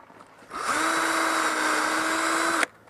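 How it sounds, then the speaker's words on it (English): A power drill spins up and runs at a steady high whine for about two seconds while pre-drilling a hole in a 2x8 board for a wooden dock, then cuts off abruptly. "I'm going to pre-drill a hole right here"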